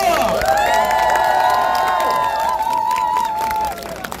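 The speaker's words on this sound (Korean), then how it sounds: "큰 박수 부탁드리겠습니다" Loud crowd at a Korean political election rally cheers and applauds, with a sustained shout or whistle-like tone riding over dense clapping and cheering before the noise eases near the end.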